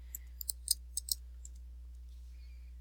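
A computer keyboard gives a few quick, light key clicks in small clusters, close and quiet over a low steady electrical hum, then falls silent.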